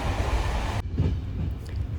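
A suburban electric commuter train rides on its rails with a steady low rumble and rolling wheel noise, fairly close and continuous, with a sharp drop in the higher hiss partway through as if passing from open air into a quieter section.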